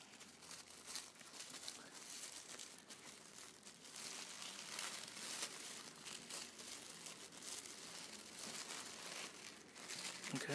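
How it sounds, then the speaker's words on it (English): Sticker being peeled and torn off a new EZgo wallet, a quiet continuous crinkling and papery tearing close by that runs through the whole stretch without any voice. "Little sticker at the front. Just gonna tear it up."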